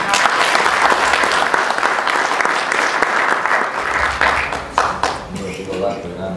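An audience at a literary gathering gives sustained applause, a dense crowd of clapping hands that stays loud, then thins toward the end as a voice begins speaking.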